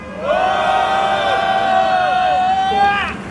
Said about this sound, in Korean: 기자회견을 여러분들의 뜨거운 환호 함성으로 시작하도록 하겠습니다